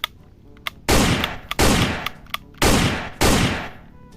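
A toy cowboy pistol fires four loud electronic bang effects in a row, each a harsh burst of crackling noise that fades over about half a second, separated by brief quiet clicks.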